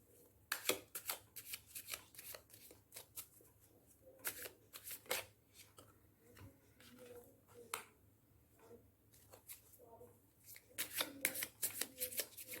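Tarot cards are shuffled by hand in a quiet room, giving repeated crisp riffling bursts in an uneven rhythm with short pauses between them, close and clear.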